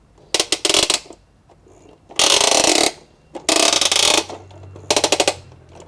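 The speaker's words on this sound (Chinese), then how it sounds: "首先呢，就是它的这个炮台的地方，它呢是可以360度的旋转。" A plastic toy armored car's turret is turned through a full circle, giving bursts of loud ratcheting clicks and grinding plastic in several separate spins, with a faint electronic hum toward the end.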